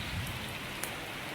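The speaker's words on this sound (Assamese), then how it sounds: "পুৰা বতাহ ইফালে বৰষুণ কমাই নাই একদম পুৰা বৰষুণ মাৰি আছে" Heavy rain pouring steadily during the rainy season, a dense continuous hiss of drops on surfaces with one brief sharper splash, no voices.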